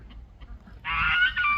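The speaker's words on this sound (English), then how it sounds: "That's all 3 male ducks I have right there." Male Cayuga ducks on a homestead give a loud, raspy burst of calling that starts abruptly after a quiet stretch of low background noise and carries on for under a second, close by.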